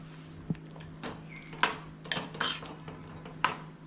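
A spoon mixing kushka biryani rice in a pot, sparse metallic clinks and scrapes against the pot's side at irregular intervals over a low hum, close and with no one speaking.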